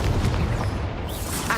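An Incendio fire spell is cast in the Hogwarts Legacy video game, a dense booming burst that stays loud across the short moment with heavy low rumble and a brief flare near the end.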